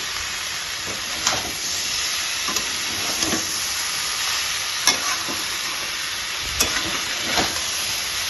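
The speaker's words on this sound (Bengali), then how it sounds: "আমি এখানে চিংড়ি মাছের যে জলটা আছে আমি পুরোটা এইভাবে ঢেলে দেবো" Prawn stock water poured into a hot pan of prawn curry, giving a continuous loud sizzle and steamy hiss broken by a few short stirring knocks.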